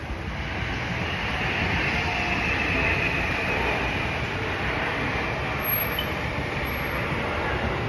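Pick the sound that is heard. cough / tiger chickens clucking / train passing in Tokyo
train passing in Tokyo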